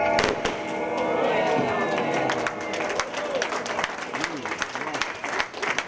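An audience at a carnival poster unveiling for Albert Heijn breaks into applause after a countdown, a loud burst of clapping with cheering, while a voice talks over the crowd in the latter part.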